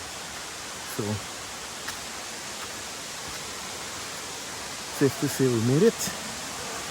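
Adelphi Waterfall in Grenada rushes as a steady broadband wash of falling water throughout, heard from some distance, with a person speaking briefly near the end over it.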